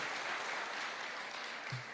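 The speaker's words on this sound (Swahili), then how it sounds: "Pigeni makofi Waziri Akumicha." Steady applause from an event crowd at the KICC in Nairobi, greeting a cabinet minister, a dense continuous patter of many hands held at an even level for the full two seconds.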